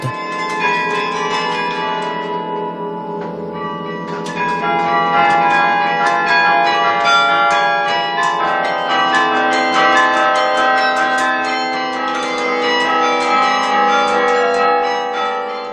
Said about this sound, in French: pour être sûr de faire sonner toutes les cloches, y compris les plus lourdes